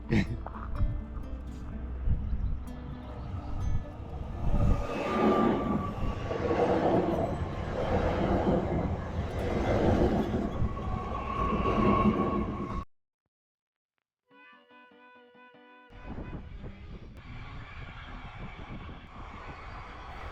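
A loud, sustained rumbling roar of a passing train dominates for several seconds, then drops to silence before quieter mixed noise returns.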